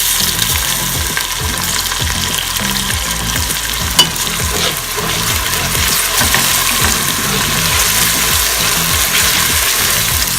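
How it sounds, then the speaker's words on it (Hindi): Garlic ginger paste hits lightly browned frying onions in a pot, setting off a loud, continuous sizzle broken by rhythmic scraping strokes of a spoon. "अब इसमें मैं लहसुन अदरक का पेस्ट ऐड कर"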